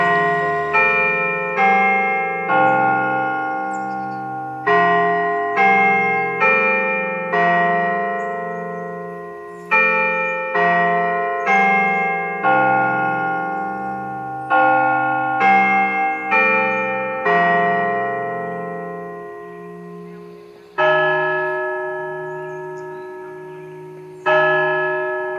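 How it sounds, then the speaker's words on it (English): Carillon bells at Garvan Gardens in Arkansas ring out a slow melodic tune, each struck note ringing and decaying into the next, clear and fairly close with no voices over them. "The nearby carillon, reminiscent of the ones often seen beside old European churches, chimes on the hour along with playing seasonal or reflective music."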